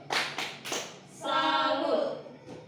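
Schoolchildren in a classroom do a short rhythmic clapping chant, three sharp near claps followed by a brief sung group call and a final faint clap.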